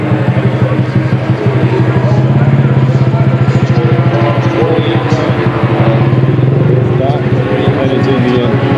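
Vintage motocross motorcycle engines at an AHRMA vintage racing event in Daytona, heard as a steady loud buzzing drone that rises and falls slightly throughout, with a voice talking over it.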